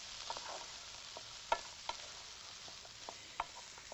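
A nutty vegetable pasta sauce with kidney beans being stirred in a pan, with soft sizzling and a few sharp clicks of a utensil against the pan, faint and close.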